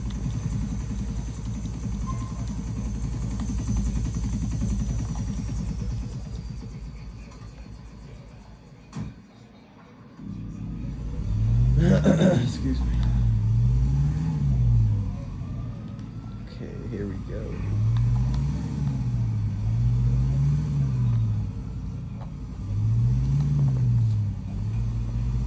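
An APC armored vehicle drives in GTA 4 with a low, steady engine drone and rumble that rises and falls in repeated swells, and a voice talks over it in places.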